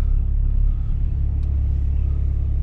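A Peugeot 206 stuck on a snowy slope, its engine droning in a steady low rumble that swells slightly as it revs, close and continuous with no voices.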